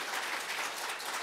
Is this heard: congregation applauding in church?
yes